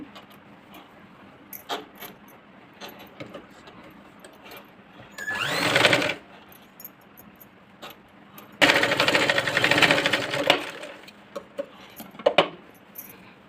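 A sewing machine stitching a princess-cut blouse runs in two clear bursts, one short and a longer steady run, with quieter handling and fabric rustling in between.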